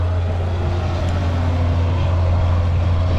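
A tractor fitted with a grapple loads hay bales onto a trailer, its loud, continuous engine drone holding steady up close.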